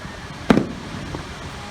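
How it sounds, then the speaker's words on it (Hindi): A single loud firework burst goes off at a Pakistan Day celebration in DHA Lahore, a sharp crack with a short rumbling tail, followed by a fainter pop about half a second later over a quiet outdoor background. "ये देखिए आतिशबाजी शुरू हो गई है।"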